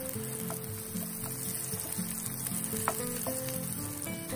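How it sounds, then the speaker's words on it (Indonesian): About five sliced shallots sizzle steadily in a little cooking oil, a loud close frying crackle with occasional stirring clicks and a faint tonal hum underneath. "kita tumis bawang merah yang sudah diiris, kira-kira 5 siung. Kita tumis sampai wangi."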